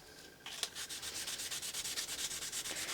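Hand sanding of a plastic safety-glasses lens with sandpaper, heard as a close, quiet, rapid back-and-forth scratching rhythm of short, even strokes with no talk.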